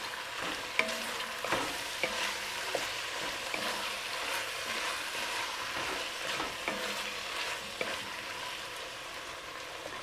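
Canned green chilies stirred into a hot pot, a steady broad sizzle with intermittent spoon scrapes and knocks against the bottom, close and continuous with no speech.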